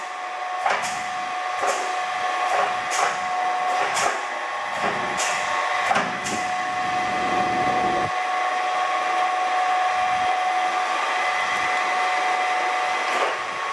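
A 1988 Komatsu 165-ton back-geared gap frame press runs in inch mode in a warehouse, giving a steady mechanical hum and whine punctuated by a series of sharp clicks and clanks, fairly close.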